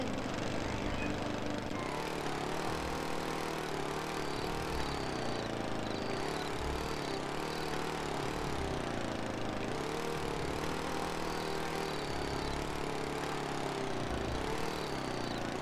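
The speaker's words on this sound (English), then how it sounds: "Drivers, start your engine!" Kart engines in a Jimmy Neutron racing game, a steady buzzing small-engine drone that rises and falls in pitch as the karts rev and run, continuous and moderately loud for the whole stretch.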